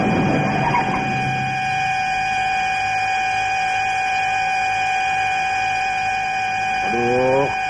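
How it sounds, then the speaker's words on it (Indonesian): A car horn blares in one long continuous tone through a scene from an old Indonesian film, with a voice speaking briefly at the start and end. "Klakson bunyi terus."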